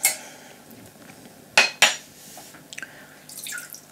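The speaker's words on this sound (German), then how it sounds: "für die Schoki nehmen wir uns die Butter, also einen Topf. Da geben wir uns die Butter rein." Butter goes into a metal cooking pot to start a chocolate glaze, with a few sharp clinks and knocks of metal, two loud bangs close together, then softer rattles and a faint drip.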